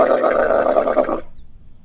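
A camel gives one long, rough, throaty grunt lasting just over a second. It is loud and close, with a buzzing, burp-like texture, and it stops abruptly into quiet.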